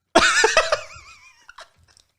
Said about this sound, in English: It's just chewing noises.